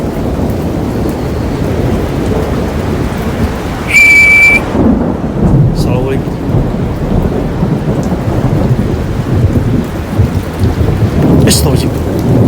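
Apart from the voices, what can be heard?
heavy rain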